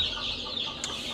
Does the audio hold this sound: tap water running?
no